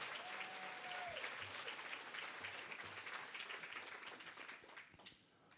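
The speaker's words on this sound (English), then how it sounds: "Big round of applause." An audience at a senior center event gives a big round of applause for the staff, dense close clapping that holds steady, then thins and fades out at the end.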